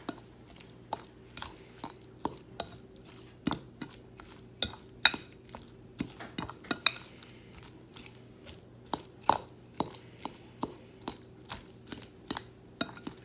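Onion and garlic are worked into avocado for guacamole in a bowl, with a steady series of sharp clinks and soft mashing taps of utensil against the dish at an irregular pace over faint background hum.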